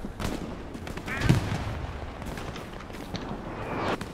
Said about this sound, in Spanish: Puta madre, viene un balazo de todos lados.